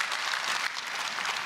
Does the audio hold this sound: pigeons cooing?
no